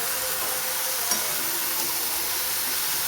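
Ridge gourd and potatoes fry steadily in a pan, a constant soft sizzle with one brief clink of stirring partway through, close and alone with no talking.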